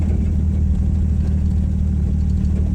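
A 1962 Rambler Classic idles with a steady, loud low rumble that holds even and unbroken throughout, heard close with no talking.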